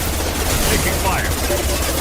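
Gunfire from hostile enemies in the sci-fi shooter game Mass Effect 2, a dense continuous rattle of automatic weapons and bursts holding steady throughout at moderate loudness, with game noise blended in.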